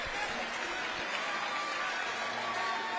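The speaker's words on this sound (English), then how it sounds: "It was, and the crowd loved it as well. Listen to them." Boxing crowd at York Hall cheering and applauding after a contest, a dense steady roar of clapping and voices filling the hall throughout, with commentators talking over it.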